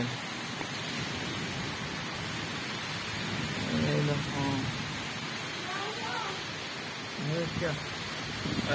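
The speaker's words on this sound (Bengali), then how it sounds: "এই দেখো বৃষ্টি পড়ছে টুপুর টাপুর করে" Steady hiss of rain falling outdoors, a continuous wash of noise, with a person speaking briefly over it.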